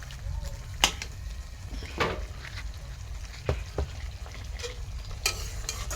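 Chicken being stir-fried kosha style in a pan gives a steady low sizzle, broken by a few sharp scraping strokes of the spoon against the pan.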